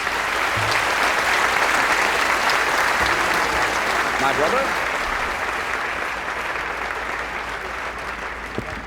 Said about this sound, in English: Let's have a nice round of applause for all of our medalists